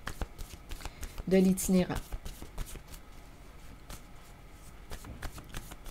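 Tarot cards are shuffled in a short riffling burst close to the microphone while a person speaks, with soft taps and handling noise around it.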